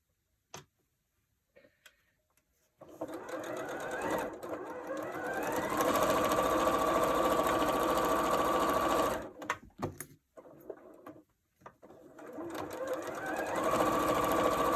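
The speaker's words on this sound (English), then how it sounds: "So I'm going to sew this half together now and this half together. I'm going to sew right down here." Sewing machine stitching a 1/4 inch quilting seam, a close, steady rapid ticking hum running for several seconds, stopping briefly with small clicks, then starting up again.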